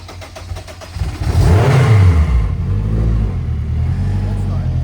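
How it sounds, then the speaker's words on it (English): A turbocharged Acura RSX engine, untuned and running on ethanol, cold-starts and revs hard, a loud rising roar that settles into a rough, steady idle; a voice is faintly audible beneath. "this is a cold start on ethanol"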